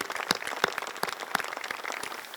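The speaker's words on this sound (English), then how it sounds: "So a round of applause to our employees who have done that." Indoor applause for employees at a naming-rights announcement for the Greensboro Coliseum, a fairly quiet, scattered round of clapping from a modest crowd that carries on evenly without voices.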